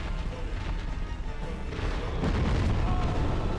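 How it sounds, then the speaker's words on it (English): A deep booming explosion sounds in the game Dark Souls Remastered, a heavy low rumble that swells in the second half and stays dense to the end, with no talk over it. "Oh, that was a explosion."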